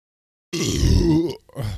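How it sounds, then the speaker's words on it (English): A loud, drawn-out burp after chugging beer, starting abruptly and rumbling for about a second, followed by a short pause and a second, weaker belch. "That was a Cece's Pizza burp, too."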